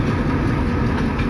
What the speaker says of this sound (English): This end of train locomotive that's coming up is on dynamics